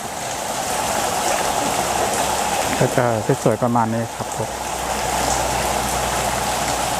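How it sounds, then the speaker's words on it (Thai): Water from a waterfall at Wat Tha Mai temple in Samut Sakhon rushes in a steady hiss that continues without a break. Someone speaks briefly partway through. "ด้านนี้จะเป็นน้ำตก"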